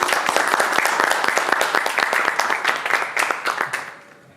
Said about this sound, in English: Please round of applause, everyone.